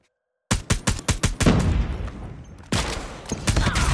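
Gunfire from the EM2 rifle in a video game: a rapid string of six or seven sharp, loud shots, then a dense burst of sustained automatic fire with rumbling echo, and a second heavy burst near the end.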